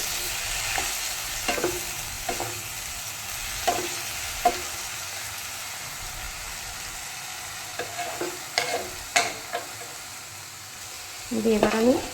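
Frying food with a little turmeric is stirred in a pan, with scattered spatula scrapes and knocks over a low steady sizzle, louder clatters clustering near the end.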